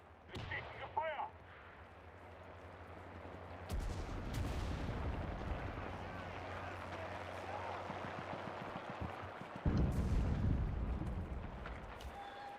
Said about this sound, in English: Artillerie! Feuer auf den Platz!